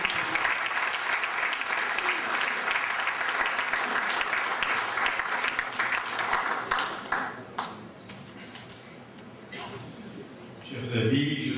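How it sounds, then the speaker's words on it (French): An audience at an award tribute in France applauds Edgar Morin, with sustained, fairly loud clapping from a large crowd that thins and fades after about seven seconds. A voice is heard near the end. "Je vous prie de l'applaudir."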